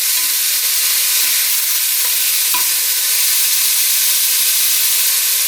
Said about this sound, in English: of course there'll be a little more sizzling as the water boils off